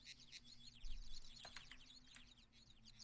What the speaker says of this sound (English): You got all the birds chirping.